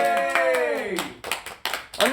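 Hands clap during the sign-off of a BTS live broadcast, a handful of sharp, separate claps following a drawn-out voice, close and fairly loud.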